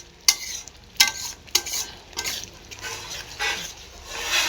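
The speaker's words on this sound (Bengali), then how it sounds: "মশলাটা আমার ভাজা একদম কষা কষা হয়ে গেছে, তেল ছেড়ে দিয়েছে।" Spice masala fries in oil in a wok with a continuous crackling sizzle, punctuated by several sharp scraping strokes of a spatula against the metal at an uneven rhythm.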